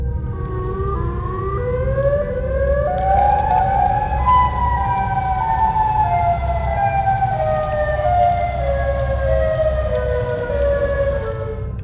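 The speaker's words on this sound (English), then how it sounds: "The video shows how eerie the sirens ringing through a quiet Chicago were." Several warbling civil-defense storm sirens wail continuously across quiet Chicago during a storm, rising and falling pitches overlapping loudly for the whole stretch over a low background rumble.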